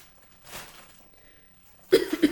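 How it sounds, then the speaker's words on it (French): A woman coughs briefly and quietly, a short burst near the end after a faint earlier sound. "je tousse encore"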